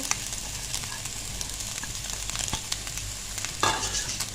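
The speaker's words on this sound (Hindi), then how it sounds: "अब हम इसमें डालेंगे सबसे पहले चिकन ताकि हम इसको थोड़ा सा भून सकें।" Chicken sautéing with already softened onions in a pan, a steady close sizzle with scraping stirs and a sharper burst of frying near the end.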